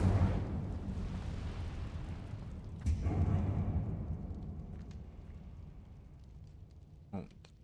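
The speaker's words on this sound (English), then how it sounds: "Oh, the trees are burning, right?" Trees set burning by the Incendio fire spell in Hogwarts Legacy, a loud roaring whoosh at the start that swells again, then fades to a low crackling rumble with a sharp pop near the end.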